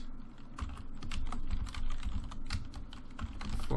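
Rapid typing on a computer keyboard, a dense run of close, soft key clacks in an uneven rhythm that carries steadily throughout without any talking.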